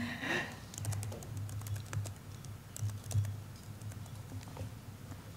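Quick, irregular clicks of a computer keyboard as someone types a short tweet at a conference, a steady low hum and faint room noise running underneath.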